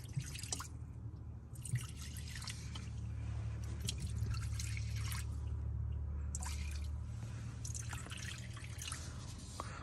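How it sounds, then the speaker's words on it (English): Acetone and transmission fluid are poured into the engine of an old scrap car, giving a steady close trickle and splash of liquid with dripping. It runs continuously at a moderate level, without any talk. "we'll just pour some transmission fluid on top of that."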